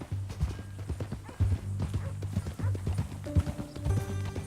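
Horse hooves clip-clop steadily and close up in Red Dead Redemption 2, a brisk rhythmic gait under quiet music.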